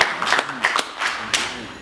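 A few scattered, sharp claps from the audience at a pastors' association general assembly in a Seoul hotel, sparse and uneven rather than a full round.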